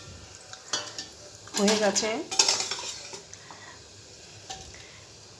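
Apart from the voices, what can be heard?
stirring and taking pumpkin, potato and chickpea curry off the stove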